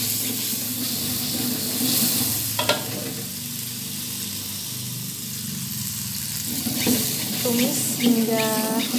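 Ground spice paste being sautéed in a pan, a loud, continuous close sizzle and hiss with occasional scraping stirs.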